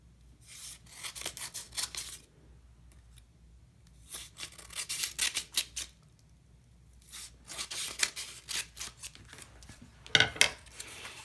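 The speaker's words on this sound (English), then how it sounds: "grab the scissors and you'll cut and make 4 quick snips on the dotted lines at the top to separate the pages" Scissors snip through folded paper pages in a series of quick crisp cutting bursts, close and alone, separated by short pauses.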